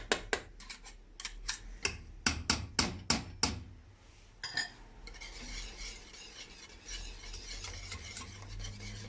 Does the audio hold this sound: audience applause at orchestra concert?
no